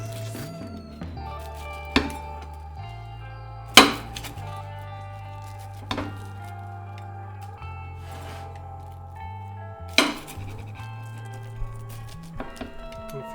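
A margherita pizza baked in a Roccbox oven is sliced, giving a few sharp, crisp crunches of cutter through crust spaced a couple of seconds apart, close and fairly quiet, over a low background hum.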